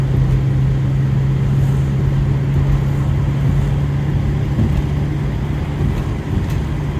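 Steady, loud cabin drone of a classic Saab cruising at 60 mph on a dual carriageway, a constant low engine hum with a sustained tonal whine under broadband road and wind roar, unbroken for the whole stretch.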